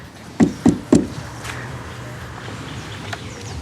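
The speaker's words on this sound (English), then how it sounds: "walk up the front steps and knock on the door." Three firm, close knocks rap on a front door in quick, even succession, followed by quiet.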